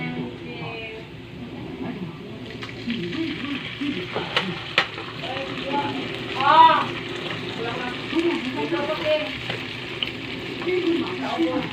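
Corned beef frying and being stirred in a pan while cooking spaghetti, a steady sizzle with scraping stir strokes, close and moderate, with faint background chatter.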